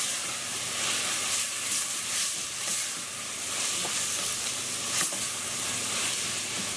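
Salt, black pepper, turmeric and ground cumin stirred together in a hot pot for Egyptian red lentil soup, giving a steady, fairly loud sizzling hiss with soft scraping throughout and no voices.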